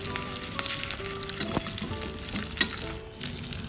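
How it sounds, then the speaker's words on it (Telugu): Green chillies and grated ginger fry in a pan for a pongal tempering, giving a steady, close sizzle with a few sharp stirring clicks and scrapes throughout, with no talking. "కొంచెం రెడ్గా ఫ్రై అయ్యే వరకు వేయించుకోండి"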